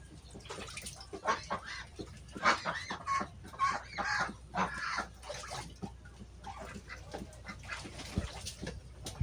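Two pet Peking ducks quarrel at close range, giving out a string of irregular honks, quacks and squawks in short bursts at low overall volume, with no talking.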